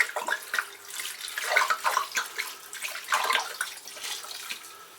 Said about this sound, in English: onto that I'm putting the whole bottle of wine